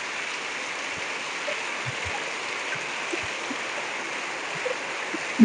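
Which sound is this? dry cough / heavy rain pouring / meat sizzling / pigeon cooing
heavy rain pouring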